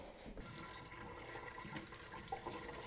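Liquid whey is poured off milk curds through layers of cheesecloth in a kitchen, a continuous rushing, splashing flow that stays steady and fairly close throughout.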